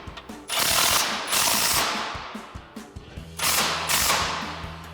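An impact wrench with an 18mm socket drives bumper bolts on a 2019-2024 RAM 2500, firing two sustained hammering bursts close by, each fading with a few scattered clanks between them.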